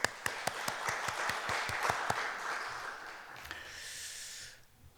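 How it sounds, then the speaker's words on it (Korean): Congregation clapping at a Sunday church service, beginning as a string of sharp, evenly spaced claps and then thinning into softer scattered clapping before it fades out near the end. "하나님께 영광의 박수 올려드리겠습니다."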